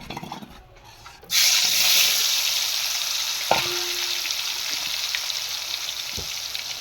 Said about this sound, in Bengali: মা তেলের উপরে অল্প হলুদ আর নুন মাখিয়ে ভেজে নিচ্ছে